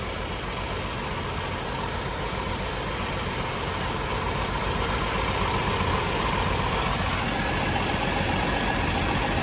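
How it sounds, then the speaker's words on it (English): A Jeep Wrangler YJ engine idles steadily after throttle is released, a continuous close, loud rumble settling back down with no talk over it. "Let it idle back down."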